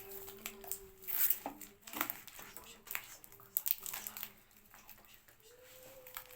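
Crinkly plastic packaging bag rustles and crackles in irregular bursts up close as it is opened, with brief tearing sounds and a faint hum underneath.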